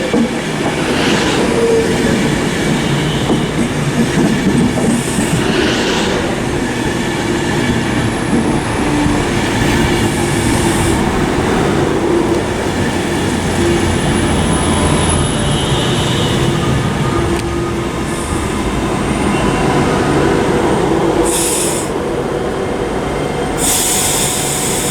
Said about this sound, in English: parting out now is the 1613 Virgin train service to Edinburgh Waverley